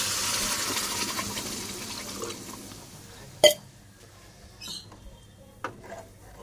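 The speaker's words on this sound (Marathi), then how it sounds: "आता याच्यामध्ये आपण गरम पाणी घालू." Hot water is poured into a pan of sautéed moth beans for misal curry, a loud rushing splash that tapers off after about three seconds, followed by a sharp clink and a few faint kitchen knocks.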